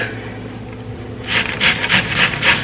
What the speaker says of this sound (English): Just take your potato like this and you grate it.